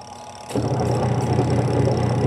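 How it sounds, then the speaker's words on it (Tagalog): A faulty washing machine's dryer starts up and runs with a loud, steady, low humming drone that continues unbroken after a sudden onset, close by. "Ayan, napakaingay. Dito sa dryer."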